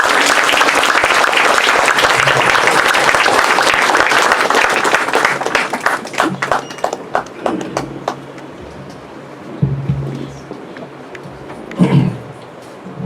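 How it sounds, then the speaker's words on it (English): Loud, dense applause from the audience at a felicitation ceremony for the Chief Justice of India, sustained for several seconds before thinning into scattered individual claps and fading to quiet. "Give a huge clap."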